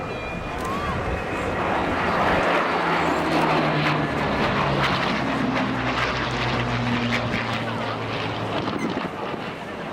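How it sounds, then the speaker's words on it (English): A Hawker Hurricane propeller fighter configured as a bomber flies past at the Dunsfold Wings & Wheels 2014 airshow, its engine a loud, continuous roaring drone with wind buffeting the microphone throughout. "That is configured as a bomb Hurricane. It was known as a hurry bomber."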